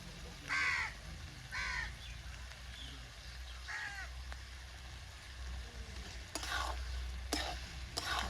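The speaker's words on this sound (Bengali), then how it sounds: "ভালো করে একটু নেড়ে ফেড়ে নামিয়ে দেবো" A spoon stirs bottle gourd and shrimp curry in a pan with ghee and sugar added near the end of cooking. A gentle sizzle and scraping sound near the pan, broken by repeated crow caws outside and a couple of sharp clinks.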